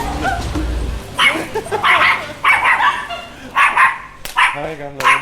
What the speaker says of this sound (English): When I got to Nikolai's house, I noticed that he has 3 dogs.